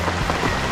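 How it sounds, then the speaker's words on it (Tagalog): Steady rain falls on a stormy morning, a dense, even wash of drops hitting surfaces that fills the whole moment without pause or talk. "Wala pa rin pila yung ulan"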